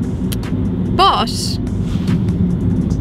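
Inside a car on a short road drive up to a mountain, steady low engine and road rumble fills the cabin, with people talking over it and a brief chirping sound near the middle.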